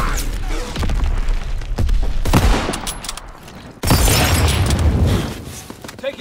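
Division artillery firing in a WWII video game, a barrage of booming blasts and crackling impacts, with a sharp loud burst midway followed by sustained rumbling debris.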